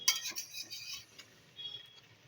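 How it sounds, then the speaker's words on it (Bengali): A spoon scrapes and clinks against a pot while prawn and cabbage curry is stirred, a few quick faint metallic scrapes followed by quieter stirring. "তো দেখো আরেকটুখানি মিক্স করে নেব।"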